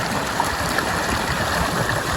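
Water flowing steadily along a field channel, a continuous rushing, gurgling wash at even loudness with no speech, heard close up.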